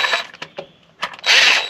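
Short bursts of a power tool or impact driver tightening bolts during an NV4500 manual transmission installation in a Corvette-powered truck, a few quick mechanical zips ending in one louder, longer whir up close.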